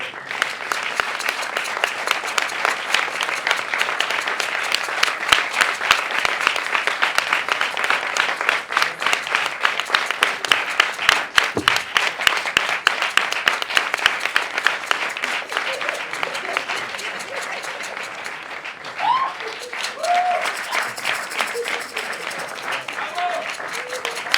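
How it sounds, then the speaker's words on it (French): Sustained loud applause from a theatre audience at a French stage show, a dense wash of many clapping hands that carries on steadily for over twenty seconds, with voices rising through it near the end. "Applaudissez-les très fort."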